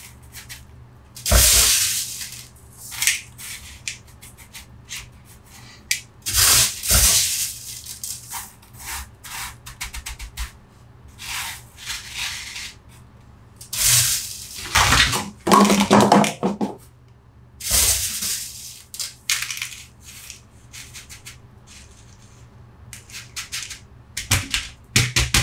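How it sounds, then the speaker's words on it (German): Potting substrate poured and pushed into a pot around a desert rose (Adenium obesum), close gritty rustling and scraping bursts with quiet gaps between them. "Wir füllen das jetzt einfach hier langsam mit dem Substrat auf."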